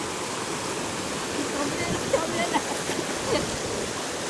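Floodwater rushing through the town of Mae Sai, a steady broad wash of flowing water with small splashes, heard continuously with no speech over it.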